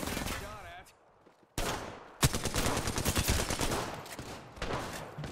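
Gunfire from a gun in the Apex Legends battle royale game, bursts of rapid shots cracking loudly through the middle and end, with a quieter stretch early on and brief speech mixed in.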